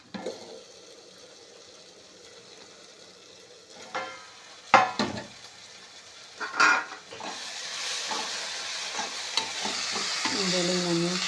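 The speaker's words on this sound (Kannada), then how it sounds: "ನಾನು ಒಂದು 5 ನಿಮಿಷ ಬೇಯಿಸ್ತಾ ಇದ್ದೀನಿ" Food fries in a pan, a soft sizzle running throughout, broken by clattering scrapes of a spoon stirring, with the sizzle swelling louder toward the end.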